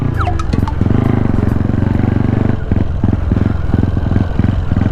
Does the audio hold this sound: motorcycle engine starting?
yes